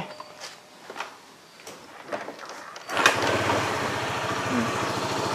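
A small motorcycle engine, still cold, starts after a few faint clicks and handling noises, then settles into a steady, close idle that continues to the end.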